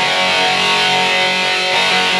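Electric guitar with a distorted 1980s-style tone in ST2 stereo mode, a loud sustained chord ringing densely for about two seconds with no talking.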